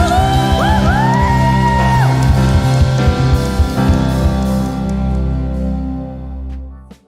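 A crowd of children shout and whoop together loudly at an online church service, voices rising in excited yells before the noise trails off into a fading din.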